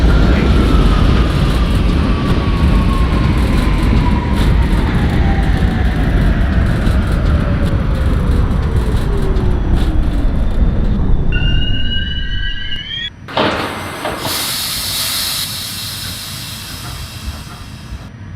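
An NYC Subway R68A train in the OpenBVE simulator winds down from a loud, whining hum as it brakes to a stop, then a rising two-tone door chime and a sharp burst of hissing air as the doors operate.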